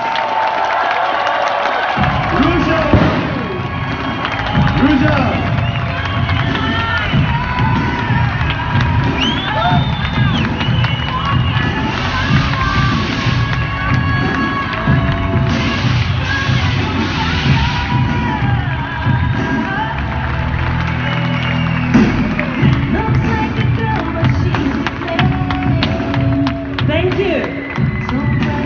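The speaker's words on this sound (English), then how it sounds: "Applause, please." A large crowd applauds and cheers at a OneCoin global event in London, with loud sustained clapping, whoops and shouts filling the room while an amplified voice speaks over the noise throughout.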